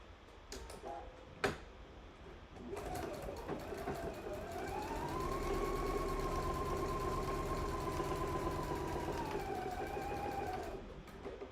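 A sewing machine stitches fabric for a fly-front zipper, starting after a few clicks and running in a steady, moderately quiet whir for about eight seconds before slowing to a stop.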